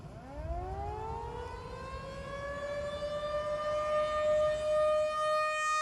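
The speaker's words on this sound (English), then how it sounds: "the tornado sirens go off" A tornado warning siren winds up from low to a high, steady wail, sounding from a distance and holding loud and sustained.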